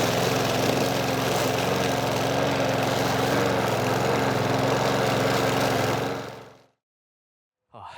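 A petrol lawn mower cuts the grass paths of an allotment in hot weather, a loud, steady, close engine drone with a low hum that cuts out abruptly near the end, followed by silence.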